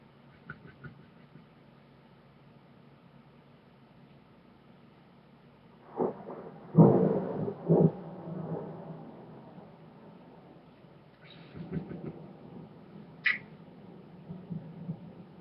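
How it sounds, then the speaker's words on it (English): Distant thunder rumbles low over a quiet background hum, with one deep roll followed by a few fainter ones. "you can hear the thunder booming outside right now"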